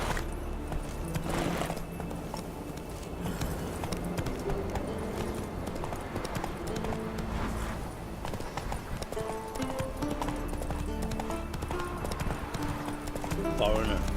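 Roach's hooves clip-clop steadily in The Witcher 3 video game, a close, even rhythm of hoofbeats with an occasional whinny, layered under game music and people talking.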